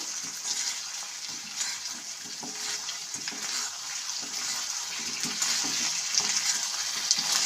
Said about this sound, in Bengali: এখন এর মধ্যে দিয়ে দিচ্ছি ভেজে রাখা মাঞ্চুরিয়ান বলগুলো জাস্ট একটু চামচের সাহায্যে টস করে নেব